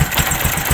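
Right after a kick start, the engine of a 2020 Bajaj CT125 motorcycle idles in a quick, loud, close chug with even rhythmic pulses.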